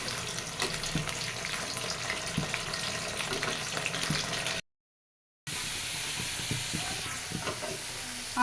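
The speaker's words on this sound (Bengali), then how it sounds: "লবণ দিয়ে ভেজে নেব" Potatoes fry in hot oil with a little salt, a steady close sizzle with soft stirring scrapes and bubbling, broken by a brief silent gap, with no talk.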